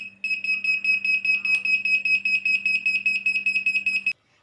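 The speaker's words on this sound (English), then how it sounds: "If the sensor detects fire, the buzzer will start sound and the two LED will blink" An Arduino flame-sensor fire alarm's buzzer sounds close and loud in a rapid, steady pulsing beep for about four seconds, then cuts off abruptly.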